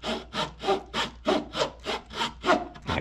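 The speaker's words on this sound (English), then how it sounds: "I do love this saw." A hand saw cuts through wood, trimming the base of a carved jackrabbit, with about ten steady back-and-forth rasping strokes in an even rhythm, close and clear with no talking.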